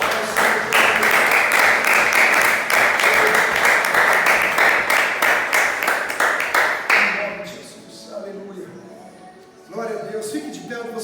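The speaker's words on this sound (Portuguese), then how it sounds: "Dê um forte aplauso." A church congregation at a Feast of Tabernacles gathering claps loudly in a fast, steady rhythm for about seven seconds, then the clapping fades out beneath voices.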